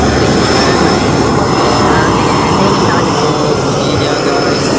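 Loud, steady roar of a private jet's engines, a constant close wash of turbine noise with no pauses, apparently recorded near the aircraft with voices faintly underneath.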